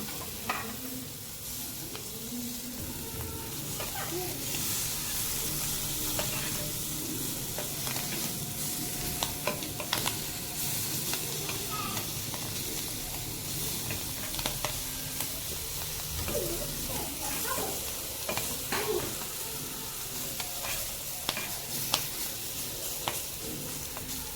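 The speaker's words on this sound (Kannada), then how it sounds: "ಈಗ ಮೀನಿನ ಮೊಟ್ಟೆಯನ್ನು ನಾನು ಆಯಿಲಲ್ಲೆಲ್ಲ ಇದೇ ತವದಲ್ಲಿ ಮಾತ್ರ ಫ್ರೈ ಮಾಡ್ತಾ ಇದ್ದೀನಿ" Fish roe fries in oil on a tawa, giving a steady, close sizzle with crackling pops and occasional stirring scrapes throughout.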